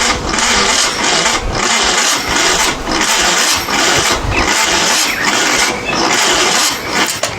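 A Moto Guzzi motorcycle engine turns over on its starter motor, cranking loudly and steadily for several seconds in a repeating, labored rhythm without catching.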